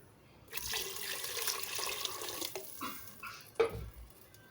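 Water poured from a tap or jug into a soup pot, about eight to ten glasses for a plain chaomein soup with salt and black pepper; a steady, moderately loud splashing stream that starts abruptly and runs for several seconds with small clinks, no talking.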